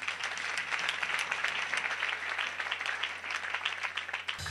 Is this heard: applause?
yes